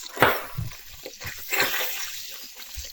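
Water poured into a pan while cooking Filipino chicken, giving short splashing and sloshing bursts against a soft, constant background hiss.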